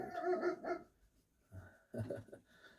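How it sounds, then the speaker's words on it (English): A dog barks a few times, muffled and somewhat distant, in short bursts separated by brief pauses. "And you can hear my dog barking up."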